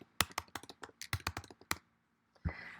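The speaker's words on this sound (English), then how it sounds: "Now we're going to type in sentiments." Close, quick keystrokes on a computer keyboard come in a burst of irregular clicks, then pause before a final short tap, with no voices.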